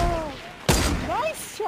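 A single sharp sniper gunshot in a video game cracks out loudly midway, framed by in-game sound effects and a player's voice before and after.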